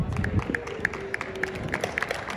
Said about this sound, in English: can I get a little bit of clapping and cheering?